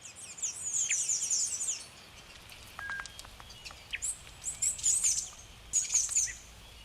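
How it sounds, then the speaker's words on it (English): Forest birds chirp and call around an overhanging fig tree heavy with ripe fruit, bright tweets coming in bursts from several birds at once, some near and some farther off, with short quiet gaps between them. "An overhanging fig tree, ripe with fruit, provides a feast for a whole range of forest birds."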